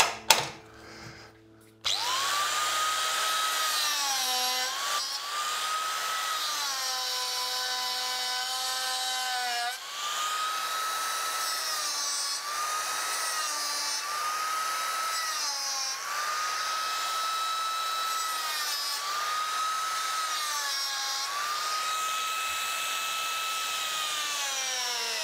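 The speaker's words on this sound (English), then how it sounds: "And the part that is left here, we'll make this with a saw." Power saw biting into wood, a high whining motor with pitch that sags and recovers as each cut loads it, running close and nearly continuously for over twenty seconds after a brief start.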